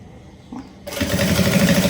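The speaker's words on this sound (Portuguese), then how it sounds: "Vem alinhando e costura. Alinha e costura." A sewing machine stitching a fabric pencil case starts up partway through and runs in a loud, fast, steady mechanical whir after a moment of quiet.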